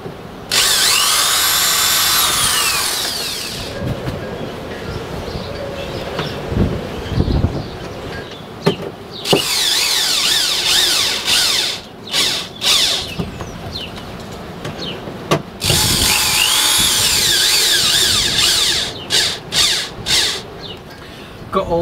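A power drill drives fasteners into wood panels inside a Vauxhall Vivaro van conversion, whirring in repeated bursts of a few seconds each, with short pauses and handling clatter between them.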